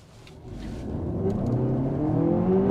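A 2024 Lexus TX 500h F-Sport hybrid SUV accelerates at full throttle, its engine and electric motors building into a steadily rising whine and drone that grows louder to the end.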